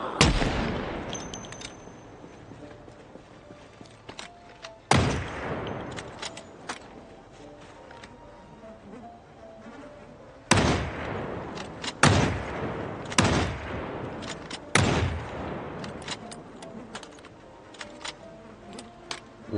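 Desert Eagle pistol fired in Project Zomboid, several sharp, loud single shots spaced a few seconds apart, each with a short decaying tail over a quiet background.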